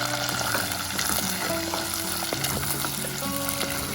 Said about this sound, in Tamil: வெங்காயத்தை போட்டுக்கலாம்.